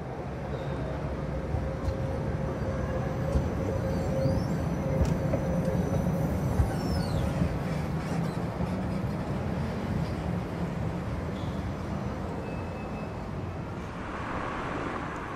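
A five-section Type A low-floor tram in Vienna rolls past with a steady rumble of wheels and motor, a faint high whine and screech of rails drifting through, constant and moderately close throughout.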